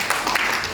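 Audience applause at a marketing plan presentation, a brief burst of steady dense clapping filling the room.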